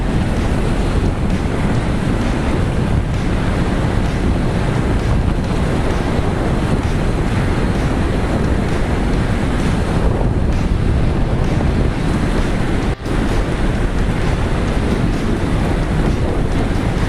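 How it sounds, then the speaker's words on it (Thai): Loud, steady wind roars and buffets the microphone while riding a Kawasaki Z900 motorcycle at speed. The broadband rush runs unbroken throughout, with one brief dip near the end and no talk. "แต่เวลาขับเนี่ได้ยินเสียงลมนะครับ ไม่ได้ยินเสียงท่อเลย"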